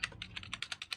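Quick run of about nine crisp keystrokes on a computer keyboard, close and evenly spaced, with no talking.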